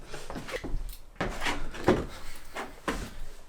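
Front door of a house handled in a series of muffled knocks and thumps, opening and closing close by, with rustling movement between the bumps.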